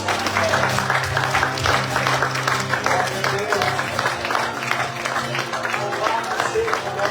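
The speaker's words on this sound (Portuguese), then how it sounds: "Levante as suas mãos e aplauda Jesus." A church congregation at a Portuguese-language communion service claps for Jesus, loud sustained clapping layered over music with a steady low tone, voices and singing mixed in.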